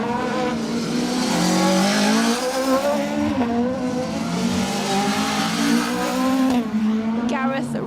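Citroen AX rally car on a special stage of the Rali Menai Stages, engine droning steadily and shifting pitch as it passes, with a commentator talking over it throughout.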